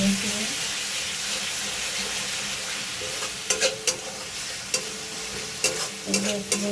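Peas frying in a pan give a steady close sizzle throughout, with a few sharp spatula knocks and stirring scrapes near the end.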